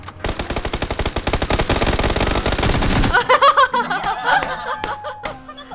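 Rapid automatic gunfire from a weapon in a video game rattles loudly in a fast, steady burst for about three seconds, followed by scattered game sounds and laughter.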